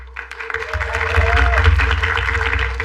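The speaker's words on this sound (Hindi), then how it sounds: "एक बार तालियां फॉर डॉक्टर पाल सुनील" Audience applause on a comedy talent show stage builds after a brief lull into a steady crowd clapping, with a deep low hum and some voices mixed in underneath.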